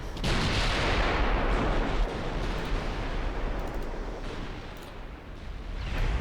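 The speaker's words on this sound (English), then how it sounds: "Close enough now that we're just going to start firing." Heavy warship guns fire in a naval battle game, a continuous loud roar of booming blasts with rumbling aftermath, no talk over it.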